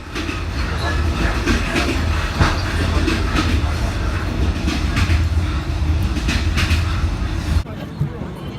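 Steady rumble of an overnight train in Vietnam rolling along rails, with rhythmic clicking and clatter throughout, constant and close, then a brief shift near the end.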